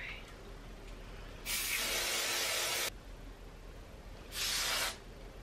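Two bursts of a spray bottle misting in a home while getting ready for a night out, a longer hiss of about a second and a half followed by a shorter one, close and fairly loud over a quiet room.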